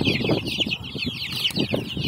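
A group of month-old chicks clucking and peeping continuously at close range, busy overlapping calls with no voices.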